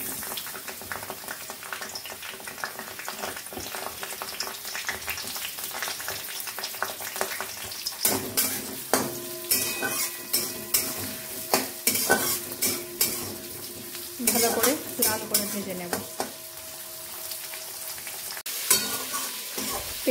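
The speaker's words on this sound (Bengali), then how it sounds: "প্রথমে দিয়ে দিই তেজপাতা, আর তার সাথে এদিকে পেঁয়াজটাও দিয়ে দেবো।" Bay leaf and sliced onion frying in a pan for ghugni, a steady close sizzle broken by scraping stirs and clinks of a spoon against the pan, busier in the second half.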